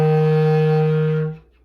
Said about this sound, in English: use your thumb to push down the F key on the back of the bass clarinet